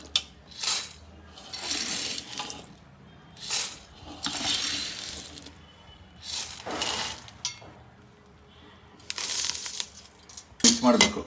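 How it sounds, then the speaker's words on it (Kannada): Fried lentils and other fried snack items are tipped into a bowl for a savoury mix, giving several separate bursts of crisp rattling, clinking and rustling spaced a second or two apart, fairly soft and close, with someone talking between them. "ಫ್ರೈ ಮಾಡಿರೋ ಐಟಮ್ ಎಲ್ಲ ಒಂದು ಬೌಲ್ಗೆ ಹಾಕೊಬೇಕು"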